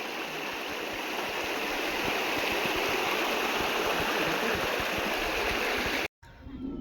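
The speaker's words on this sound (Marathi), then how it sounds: "मच्छरदाणी बांधून त्यातून नाल्याची धार काढलेली आहे म्हणजे जे काही पाणी जातं ते मच्छरदाणीमधून निघून जातं" Drain water pouring in a steady stream through a mosquito net stretched across a village channel, a constant close rushing and gurgling that cuts off abruptly near the end before resuming faintly.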